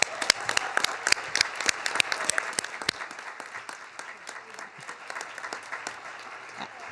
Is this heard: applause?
yes